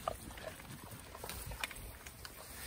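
Large and small pigs grazing and rooting outdoors, giving faint, scattered snuffles, soft grunts and rustling at a distance against a quiet background.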